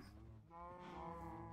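Minecraft cow gives one drawn-out moo, clear and fairly quiet, a short low lead-in followed by a sustained tonal call with no talking over it.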